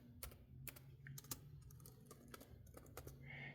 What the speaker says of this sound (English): I'm going to type in the address